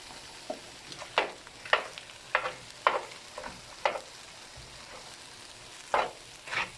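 Ground meat fries in a pan with longaniza sausage for chanclas poblanas, a low steady sizzle broken by repeated scrapes and clacks of stirring, close up and without speech.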